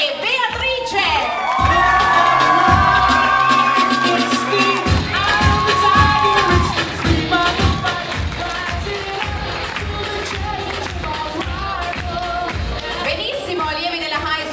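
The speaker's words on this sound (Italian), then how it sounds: "E infine vi chiedo un grande applauso anche per Alessio e Beatrice." An audience at a dance gala cheers, whoops and shouts continuously and loudly, with many voices and music mixed in throughout.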